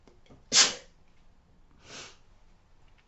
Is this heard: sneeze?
yes